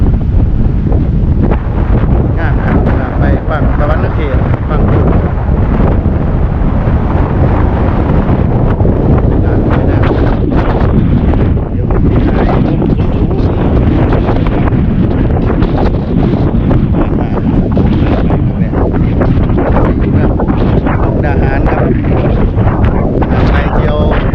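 Dry cold-season wind buffets the microphone outdoors in Mukdahan near the Thai-Lao Friendship Bridge, a loud, continuous rumbling roar with gusty surges throughout.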